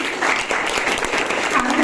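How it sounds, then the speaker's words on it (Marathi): An audience applauds a doctor-poet at a gathering, a dense crowd clapping that fills the whole moment, close and steady, with voices faintly mixed in. "आदरणीय डॉक्टर कवी सरांसाठी तर जोरदार टाळ्या होत्या"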